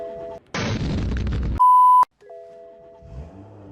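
A BMW dressed up as a fake M2 starts with a brief loud roar from its activated start-up feature, then a sharp electronic beep and a steady low idle hum afterward.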